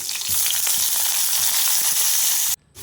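Steady, loud sizzling of lentils frying in hot oil for tempering a chutney, continuous and close, cutting off abruptly near the end.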